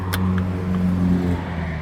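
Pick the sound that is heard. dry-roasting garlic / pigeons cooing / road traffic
road traffic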